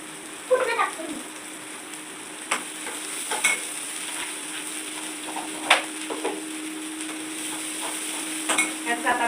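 Coconut, coriander, garlic and ginger paste sizzles steadily in a pan. A spoon stirs it with scattered scrapes and clicks. A faint constant tone runs underneath, with no talk.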